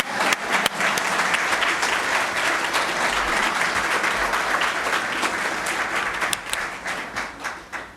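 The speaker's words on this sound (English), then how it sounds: "Applause is inappropriate during services" Congregation in a Reform temple bursting into sustained applause during a Rosh Hashanah evening service, dense crowd clapping throughout before tapering off at the end.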